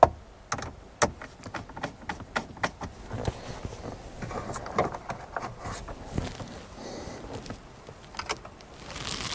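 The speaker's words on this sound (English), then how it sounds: "I'm just going to tack it in with 2 screws for now just to hold it there." A hand screwdriver driving two screws to tack the HVAC screen back into a Jeep Cherokee's dash, heard as close irregular clicks, ratcheting ticks and small rattles, fairly loud with no talking.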